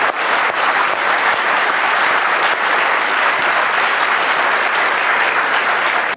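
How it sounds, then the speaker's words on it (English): An audience gives loud, continuous applause at the end of a lecture on AI, with many hands clapping densely and evenly before it cuts off abruptly. "I think that deserves an applause."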